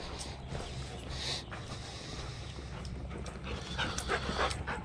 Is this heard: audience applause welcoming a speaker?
no